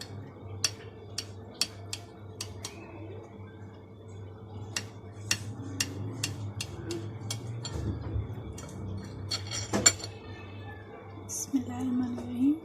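A knife cuts through a freshly turned-out homemade chocolate cake on a serving dish, giving sharp, evenly spaced clicks and taps of blade on plate over a low hum, with someone speaking briefly partway through.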